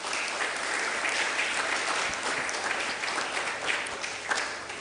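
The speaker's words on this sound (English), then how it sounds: "A round of applause for them." An evening founder's week programme audience gives a round of applause, a dense wash of many hands clapping at moderate distance, steady for about five seconds without talking.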